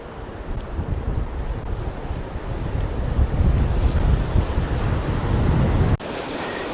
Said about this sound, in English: it is super windy today